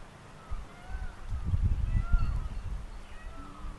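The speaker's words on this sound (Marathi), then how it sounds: "मोराचा आवाज येतोय का आपल्याला?" Peacock calls from somewhere in a farm's orange orchard during rain, faint and distant wailing cries drifting over a low, rumbling wash of rainfall and wind.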